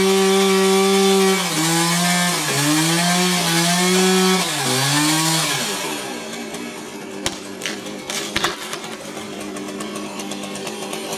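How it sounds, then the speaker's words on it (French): A chainsaw makes the back cut to drop the head branch of a tree during pruning, its engine pitch bending and dipping as the chain bites, then releasing into scattered cracks and thumps of falling wood. "Réalisation du trait de scie arrière en vue de coupe de la branche, de la tête, de l'arbre"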